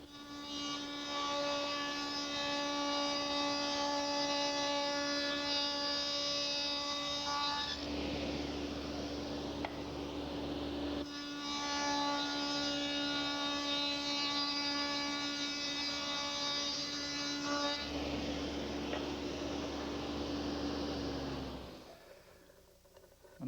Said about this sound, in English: So I'm going to rabbit out the back side of the plywood so that it'll slip into that groove.